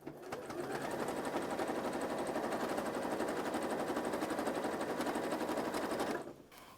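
A sewing machine runs steadily while stitching a straight line down a potholder, a close, rapid, even mechanical chatter for about six seconds before stopping, with no voices over it.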